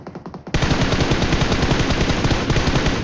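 Rapid automatic gunfire blasts loud and continuous in a battle royale video game, a dense rattling burst that starts sharply after a brief lull.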